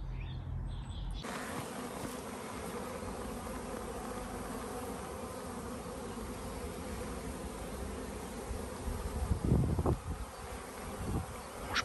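Honeybees buzz steadily at a sunny spring apiary, a dense continuous drone of many insects close by, with a few louder bumps and handling noises near the end.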